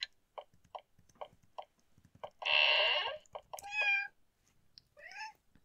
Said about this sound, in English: Meanwhile, a cat is demanding more attention.